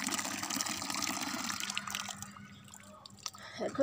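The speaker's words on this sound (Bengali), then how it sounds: "এই যে পানি পড়ছে" Water pours onto garden plants, a close gushing splash that fades into scattered drips and trickles toward the end.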